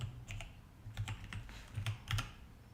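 Rapid keystrokes on a computer keyboard, a few quick bursts of clicking taps close up with short pauses between them, alone without speech.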